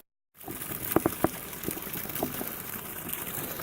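Water runs through an uncapped 55-gallon barrel being rinsed of food-grade detergent, a steady trickling splash with a few sharp knocks and drips over it, fairly close.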